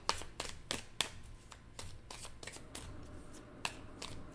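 Tarot cards being shuffled in a series of quick, crisp riffling bursts, close and fairly soft, with no talking over them.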